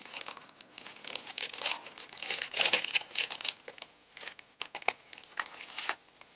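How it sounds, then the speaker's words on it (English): Close, loud crinkling of thin cellophane sleeve bags for art prints as they are handled, with rapid irregular crackles and rustles throughout and no speech. "the little cellophane bags for the sleeves"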